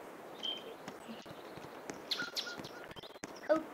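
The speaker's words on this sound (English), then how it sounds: "Oh, you hear the bird chirp?" Birds chirp in a Roblox video game, with a few short, thin, high tweets scattered over a quiet background.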